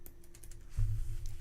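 Soft keyboard typing, a few light clicks early on, then a low rumbling thump partway through, all fairly quiet with no voices.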